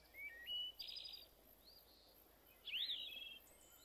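Birds chirp in the survival game Survival: Lost Way, with faint, clear, sparse high tweets and short trills, a few separate calls spread over a quiet background.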